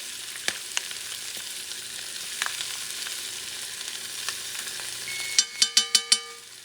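Tomato paste frying in hot oil over a beef roast base, a steady soft sizzle with faint scattered ticks, then a short run of five sharp, evenly spaced clinks or taps near the end.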